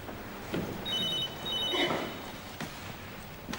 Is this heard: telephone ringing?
yes